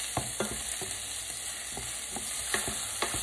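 Sliced button mushrooms frying in a pan while being stirred: a constant bright sizzle with irregular scraping and tapping of the spoon against the pan, close up and with no talking.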